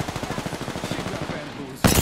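Rapid bursts of video-game gunfire rattle in a steady, repeated rhythm, dense and close, ending in a sudden louder blast.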